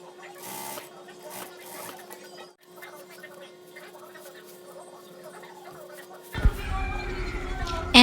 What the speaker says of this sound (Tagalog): time to sew the red for the waist